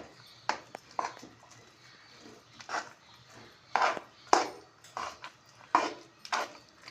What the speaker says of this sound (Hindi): ये डाल दी हमने कढ़ाई में सब दाल। अब इसको चलाएंगे ताकि ये घी के अंदर मिक्स हो जाए।